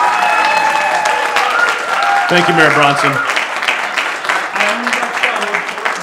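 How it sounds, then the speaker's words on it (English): A round of applause from the audience at an arts alliance mayoral forum, with crowd clapping running throughout while a voice speaks over it and brief tonal music sounds in the middle. "Round of applause."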